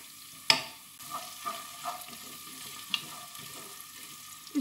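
Tomatoes being stirred into golden-browned onions in a pot, a soft frying sizzle with scattered spoon knocks and a sharp clatter near the start, fairly quiet, no voices.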